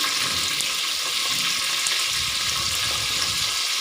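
Thinly sliced onions and green chillies sizzle in hot oil for mutton biryani, a steady, bright, continuous hiss and crackle throughout, close and alone without talk.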